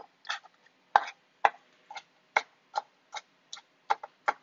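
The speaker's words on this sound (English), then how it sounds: "That's what I like about a ceramic knife. It cuts so nicely into the tomatoes." Ceramic knife slicing into fresh tomatoes, heard as about ten crisp, evenly spaced cutting ticks at close range, one roughly every half second, with no talking.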